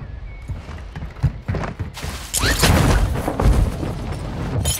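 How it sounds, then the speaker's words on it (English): Airstrike explosions in Call of Duty Warzone 2.0 land as a run of heavy booms and thuds, thickening into a loud, sustained roar of blasts and debris in the second half. "Friendly airstrike in the AO."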